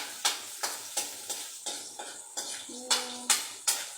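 Garlic frying after onions in a pan for afritada, a steady sizzle broken by about ten rhythmic scraping stirs of a spatula, close by, with a brief tonal clink midway.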